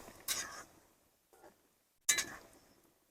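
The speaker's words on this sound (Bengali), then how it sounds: "আস্তে করে দিয়ে এটা ভালো করে নেড়ে চেড়ে ভাজতে হবে" Kathi ras gaja stirred while frying in oil in a pan, with a few sharp metallic clinks of a spoon against the pan separated by quiet gaps.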